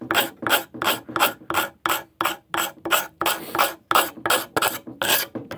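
A card scraper working a wooden axe handle in quick, repeated rasping strokes, about two per second, each a close, bright scrape with a short gap, no voices.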